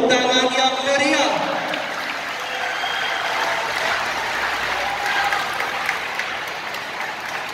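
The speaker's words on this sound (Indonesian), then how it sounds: "Sekali lagi mohon tepuk tangan yang meriah." A crowd applauds steadily and loudly at the opening ceremony of a national karate championship in Bali. An announcer's voice is heard briefly at the start, then sustained clapping fills the rest.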